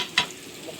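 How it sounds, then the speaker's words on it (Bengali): Cardamom, cinnamon, ground pepper and bay leaves stirred in a frying pan: one brief, close scrape of the spoon over a low sizzle. "ভালো করে নাড়া দেব"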